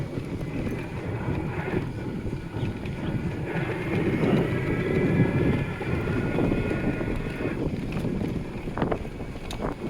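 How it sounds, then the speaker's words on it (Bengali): Strong, cold wind sweeps across open countryside beside mustard fields, buffeting the microphone with a continuous low roaring rush that swells slightly midway. "প্রচুর বাতাস চলতেছে এদিকে"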